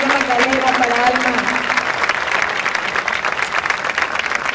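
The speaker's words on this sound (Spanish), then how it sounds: "¡Fuerte el aplauso, por favor!" An audience at a community gathering in Apango breaks into loud, sustained applause, steady dense clapping throughout, with a voice speaking briefly near the start.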